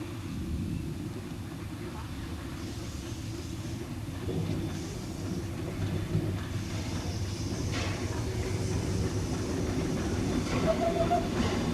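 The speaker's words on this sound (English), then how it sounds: "The Ballenberg Dampfbahn comes to the rescue with their magnificent historic steam train hauled by the Brunig Railway locomotive number 208" The historic Ballenberg Dampfbahn steam train, hauled by Brünig Railway locomotive 208, rumbles steadily along the track with a continuous low rolling noise and faint clatter, growing slightly louder over time.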